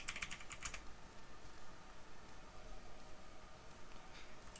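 Fingers type on a computer keyboard in a steady, close run of soft key clicks, with a slightly louder cluster of strokes at the start, alone with no talk.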